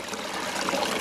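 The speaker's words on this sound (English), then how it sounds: "there's just not much water flowing in this creek" Thin creek water trickling into a micro hydro Coanda screen intake clogged with leaves, a soft, continuous close-up burble with no voices.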